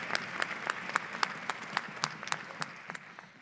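Audience at an intermediate school winter orchestra concert applauding the high school student helpers, scattered individual claps standing out over a softer bed of clapping that fades slightly toward the end.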